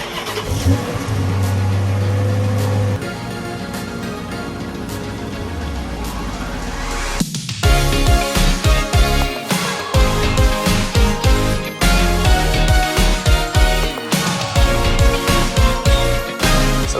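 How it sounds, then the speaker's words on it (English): A Dodge Charger pulled out of a garage: a low idle at first, then the engine rumbles up and revs in repeated loud, close bursts with throttle blips and a deep exhaust note, no voices. "let's pull the Charger out of the garage"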